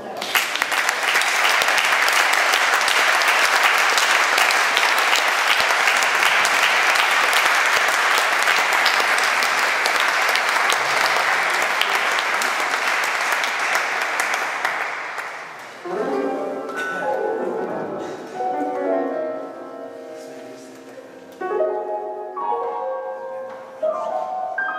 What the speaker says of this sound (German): begrüßen Sie mit mir zusammen, mit recht lautem Applaus, zu dieser Premiere